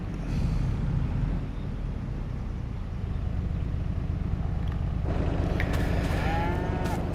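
Cattle moo inside a cow barn in the Farming Simulator 22 farming game, the calls blended into a steady, dense ambient hum of farm noise that continues throughout without any speech.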